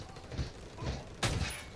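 Gunfire in the Ghost Recon Wildlands Fallen Ghost DLC: several muffled shots and impacts in quick succession, with a sharper, louder burst toward the end, all at moderate level.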